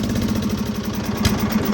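A Murray riding mower's engine running steadily at a healthy idle, a close, continuous mid-pitched chug with an even pulsing rhythm.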